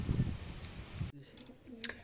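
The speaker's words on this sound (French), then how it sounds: "Donc on se retrouve dans le pigeonnier" Pigeons cooing inside a pigeon loft, low soft calls in the first half, then quieter indoor sounds with a brief faint chirp near the end.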